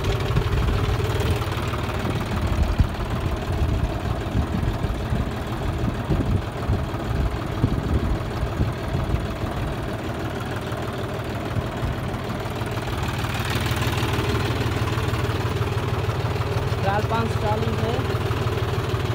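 John Deere 5105 tractor engine idling at about 700 RPM with the PTO in the 540 range, a steady low diesel rumble and vibration throughout, with people talking over it.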